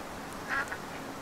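Ducks in the farming game Farm Together 2 give a brief, faint quack or two, standing alone over a quiet background.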